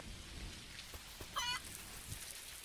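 Rain in the video game Dinkum, a soft, faint, steady patter with a few light drop ticks and a brief chirp-like animal sound in the middle.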